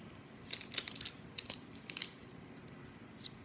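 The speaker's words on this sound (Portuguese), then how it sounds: "Então, vou abrir aqui a embalagem." Crinkly plastic packaging of a saxophone reed being opened, a handful of sharp rustles and small clicks close by in a quiet room, no talking.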